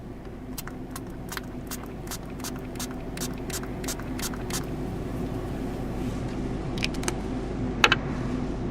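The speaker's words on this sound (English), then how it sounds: "So we spray the brush thoroughly with alcohol." A quick series of short spray bursts from a pump bottle of alcohol onto a brush, about a dozen evenly spaced squirts, followed by a few scattered ones over a low background hum.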